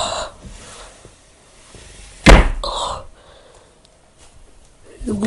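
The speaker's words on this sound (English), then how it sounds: "Oh, let's open the door." One sharp, loud thud as a door is handled, standing out clearly near the middle, with short bursts of voices before and after it and a quieter stretch between.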